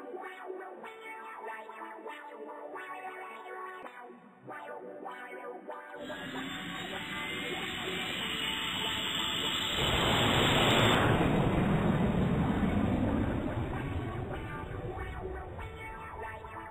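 Loud, dense orchestral video game music, a remix of Ride of the Valkyries from Mata Nui Online Game, with a wash of bright noise swelling in partway through and building to a roaring peak, heavily distorted and noisy throughout.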